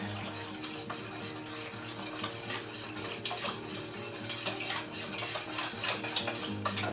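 Jamu is whisked in a bowl, the whisk scraping and clinking steadily against the bottom in quick repeated strokes, close and fairly quiet with no talking.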